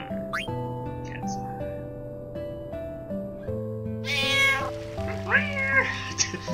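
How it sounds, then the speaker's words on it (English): A cat in the video game Feo Fantasy gives a loud, drawn-out meow over steady game music with a layered melodic tone, and the yowl rises into a wavering caterwaul near the end. "Loud ass cat noise."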